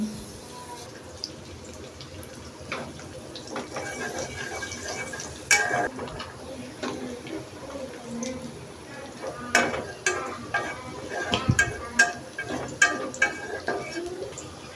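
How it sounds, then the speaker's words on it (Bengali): Small diced potatoes for potato bhaji fry in a pan and are stirred, giving a soft, steady sizzle broken by irregular scraping and clattering strokes of the spoon, close and moderately loud, with no talking. "আলু ভাজির আলুগুলো কেটে নিয়েছি একদম ছোটো ছোটো করে, দিয়ে দিলাম।"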